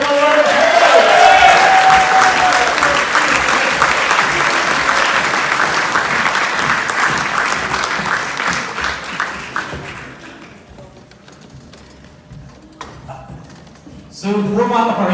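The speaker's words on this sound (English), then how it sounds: "can we give a big round of applause to our judges this evening?" Loud, sustained applause from an audience at a Strictly-style charity dance fundraiser for Zambia, greeting the judges; it thins out toward the end before a brief burst of renewed clapping.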